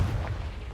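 A Confringo explosive spell blast goes off in Hogwarts Legacy, a brief heavy boom with a dense low rumble, close and loud, with no voices.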